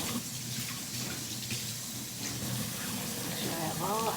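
Tap water runs steadily into a sink while a Dungeness crab is rinsed and cleaned under it, a continuous close splashing wash with faint handling noises near the end.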